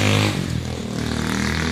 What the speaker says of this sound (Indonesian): Sorry ya kalau banyak suara motor ya guys ya. Memang kita di tepi jalan guys.